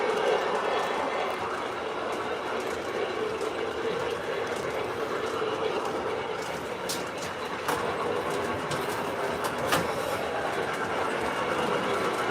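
A Lionel O scale model train locomotive runs with a steady mechanical rumble and faint clickety-clack, a continuous moderate drone with occasional small clicks.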